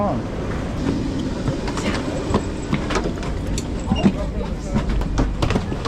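Steady rumble of a train in motion, with rattling and clacking over a continuous low roar, fairly loud and close.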